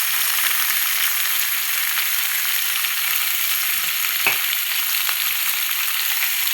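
Chopped onions, tomatoes and cashews fry in a pan for a soya butter masala, giving a steady, even sizzle throughout with one brief clink of a utensil partway through. No one speaks.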